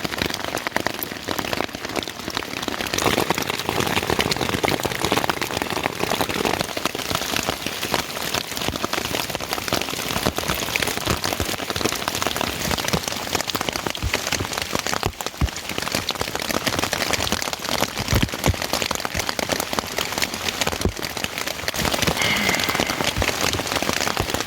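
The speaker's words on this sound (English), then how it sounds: "I'm just going to sit in the rain." Steady heavy rain pouring onto a flooded basecamp in a storm, a dense continuous hiss of drops hitting surfaces for the whole stretch, close and loud with no talking.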